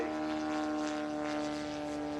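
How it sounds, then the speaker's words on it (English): Half-scale Nieuport 28 model aeroplane with a 320cc engine, giving a steady buzzing propeller drone, loud and continuous with a slight waver, no voices heard. "half-scale rendition of the Newport 28, powered by a Wesley engine of 320cc"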